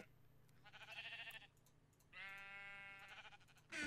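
Sheep bleat in a Minecraft-style video game, two loud wavering bleats in quick succession, close and alone.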